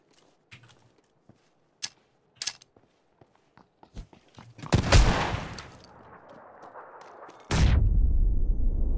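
SKS rifle fire in PUBG: sparse distant pops and footsteps, then a loud close blast with a trailing roar, a stretch of rumble, and a second heavy burst at the end.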